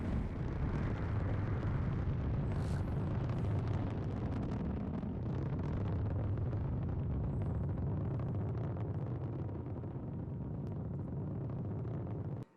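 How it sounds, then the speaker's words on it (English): A rocket launch in the Battlefield 2042 shooter roars as a sustained, loud broadband rumble with a rushing, blasting texture that holds for about twelve seconds before cutting off abruptly. "There's a rocket that goes off."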